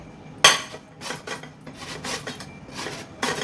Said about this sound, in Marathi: आता ही कैरी मी खिसून घेते।